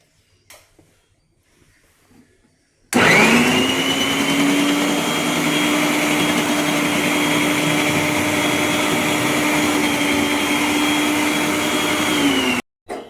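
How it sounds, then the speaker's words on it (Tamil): An electric mixie chops tomatoes and onions in one continuous high-pitched whirring motor run of about ten seconds, starting and stopping abruptly in a quiet kitchen. "காய்களை நறுக்குவதற்காக மிக்ஸி ஈஸியாக வெட்டிடலாம்"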